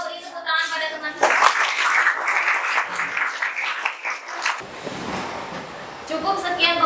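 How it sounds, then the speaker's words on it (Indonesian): A group of schoolchildren in a classroom claps and applauds for several seconds, with children's voices chattering around and over the clapping. "beri tepuk tangan pada teman-teman"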